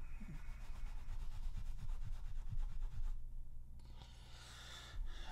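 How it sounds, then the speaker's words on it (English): Someone hand-sands the metal bolster of an Old Timer liner-lock knife in quick, close scratchy back-and-forth strokes, then pauses briefly before a few softer rubs. The sound stays quiet. "And sanding that down."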